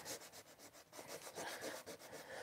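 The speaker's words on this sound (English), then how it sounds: "If I sand that back a little bit." Quiet, rhythmic back-and-forth rubbing strokes come from sanding a wooden part of a gargoyle letterbox's tail and wings by hand, repeating steadily at close range with no speech.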